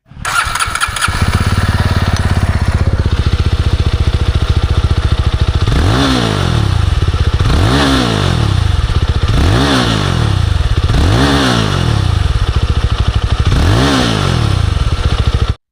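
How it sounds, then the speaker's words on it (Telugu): A 2026 Jawa 42FJ motorcycle with a double-barrel exhaust starts up close by, then idles loudly and is revved five times in a regular rhythm, each rev rising and falling. "సో ఎగ్జాస్ట్ నోట్ కూడా మీకు ఒకసారి వినిపిస్తాను చూడండి"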